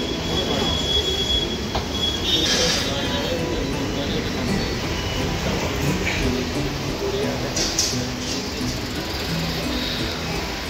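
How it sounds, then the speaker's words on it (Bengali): A Kolkata metro train at a Sealdah station platform rumbles continuously with high metallic wheel squeal flaring now and then, loud and close amid platform noise. "4 নম্বর প্ল্যাটফর্ম থেকেই একমাত্র আপনারা পেয়ে যাবেন জয় হিন্দ বা দমদম এয়ারপোর্ট যাওয়ার মেট্রো"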